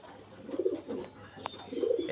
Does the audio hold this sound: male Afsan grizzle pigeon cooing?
yes